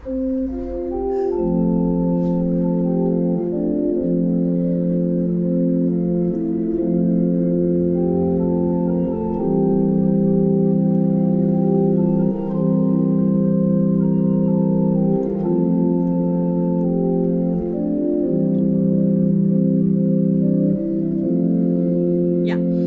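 Sustained accompaniment chords for the folk song O Waly Waly, built only from the I, IV and V chords, shift steadily beneath a held melody line, loud and continuous with no pauses.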